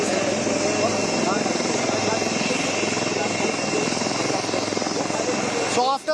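LCH Prachand light combat helicopter taxiing after landing at an induction event, its rotor and turbine drone loud, steady and near throughout, with a brief change at the very end.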